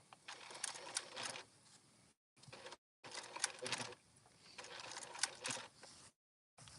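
A sewing machine stitches through a thick canvas wallet in several short bursts of rapid mechanical whirring, separated by brief silences, heard up close and fairly quiet.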